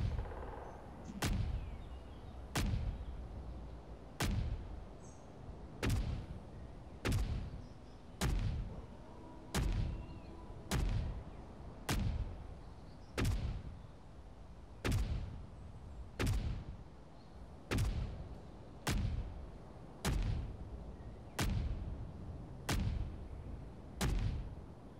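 Custom-built turrets in Space Engineers fire one after another in a steady sequence, each shot a loud, sharp boom with a low thud, spaced roughly a second and a half apart, with no talk over them.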